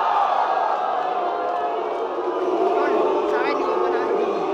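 A crowd at a rap battle cheering and shouting for a rapper, a loud, continuous roar of many voices with whistles and yells rising over it.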